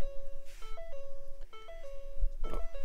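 Ford Fiesta ST door-open warning chime, a repeating electronic two-tone pattern that cycles several times, clear and fairly close against a low background hum.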